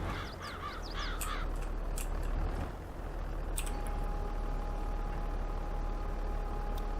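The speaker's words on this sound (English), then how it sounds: "No matter where you go, there's crows." Several crows caw in quick bursts early on in Farming Simulator 22, over a steady low rumble; a faint thin tone lingers afterward.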